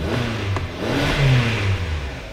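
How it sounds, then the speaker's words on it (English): A car engine with a repaired transmission revs up and settles, a close mid-pitched roar rising and falling over a couple of seconds, heard alone. "Let me turn off the engine."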